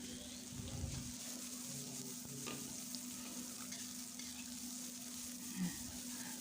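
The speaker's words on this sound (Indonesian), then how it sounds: "Kemudian kita masukkan bawang bombay yang sudah kita potong-potong tadi. Kita aduk sampai layu." Chopped onion and garlic sizzle softly in a pan while being stirred, a steady quiet frying hiss with occasional scraping of the utensil, heard alone and close.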